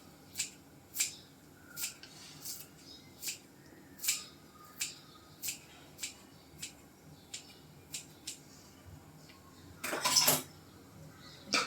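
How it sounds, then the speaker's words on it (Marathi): Sambar stirred in a pot with a spoon, giving about a dozen sharp metallic clinks at a steady rhythm, close and clear, with one louder, longer scrape near the end and no talking. "परत एकदा आपण छान हलवून घेतोय."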